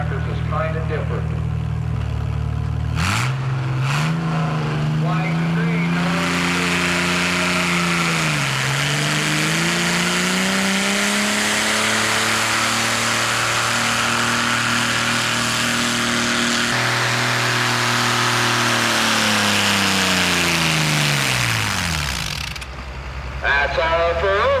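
Antique tractors, including Minneapolis-Moline and Massey-Harris, at a pulling event during a farm reunion, one engine chugging loud and near as it labors, its pitch rising and falling through long pulls before cutting off.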